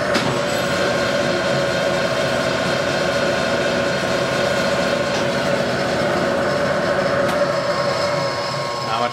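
A Clausing 6913 lathe runs in direct drive at about 1000 RPM, giving off a loud, steady mechanical drone with a constant whine and no change throughout.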